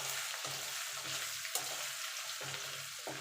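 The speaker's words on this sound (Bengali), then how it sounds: "এবার একটুখানি নাড়াচাড়া করে নেব।" Spinach-stem curry with Kashmiri chilli powder stirred in a frying pan, a steady sizzle broken by regular scraping strokes of a spoon about every second, close and continuous.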